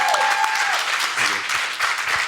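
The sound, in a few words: audience applause for a speaker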